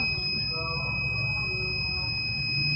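A buzzer on an IoT temperature monitoring system switches on once the reading passes 30 degrees, giving a steady, continuous high electronic tone that holds unbroken above a low background hum.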